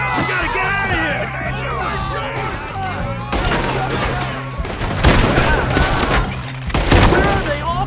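Dense gunfire from a Red Dead Redemption 2 riverboat heist shootout, with rapid overlapping shots and bursts running throughout under shouting voices and game music.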